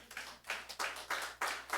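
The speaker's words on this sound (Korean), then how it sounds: "우리 박수 한번 치겠습니다." A church congregation claps for two young guests standing up during a service, with a short run of rhythmic, fairly soft group clapping in even beats.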